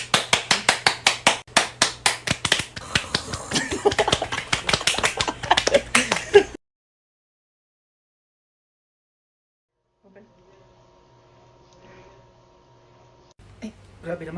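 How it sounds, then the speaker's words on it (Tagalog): Several people clapping their hands in a fast, loud, uneven burst of close claps for about six seconds, then a sudden cut to near silence with faint background sounds later. "Pumalakpak tayo, dali."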